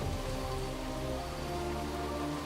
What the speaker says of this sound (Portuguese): A chuva é o teste máximo.